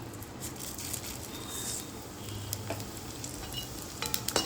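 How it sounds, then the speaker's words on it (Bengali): Dried red chillies and panch phoron spitting in hot mustard oil, a faint, steady sizzle with scattered small crackles and pops growing sharper near the end, close and unaccompanied by speech. "এবার এই তেলে আমি শুকনো লঙ্কা ফোড়ন আর কিছুটা পাঁচ ফোড়ন দিয়ে দিলাম"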